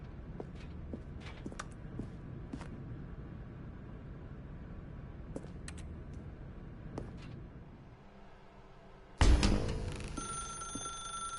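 Telephone ringing in The Stanley Parable video game, a few quiet repeated rings over soft footsteps and low room ambience, ending with a sudden louder bright tone burst.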